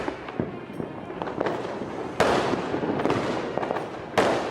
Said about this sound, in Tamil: அங்கே வான வேடிக்கை வெகு விமரிசையாக